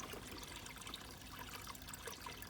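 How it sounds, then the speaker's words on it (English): Steady trickle of water running into a backyard drainage pump station fed by rear downspouts, a continuous soft hiss with no voices. "As you can see, the water is coming in."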